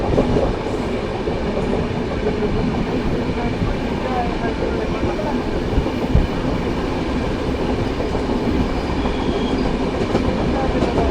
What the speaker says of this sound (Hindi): अच्छी रफ्तार के साथ हमारी ट्रेन आगे बढ़ रही है।